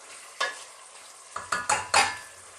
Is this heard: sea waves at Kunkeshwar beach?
no